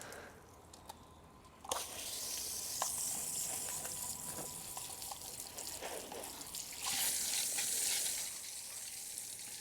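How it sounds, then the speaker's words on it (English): Water from a hose pipe hisses and splashes while rinsing dirt off a motorcycle being prepared for winter storage, starting abruptly after a quiet moment and continuing as a steady, fairly faint spray with occasional drips. "it's just with a hose pipe, just to rinse that off"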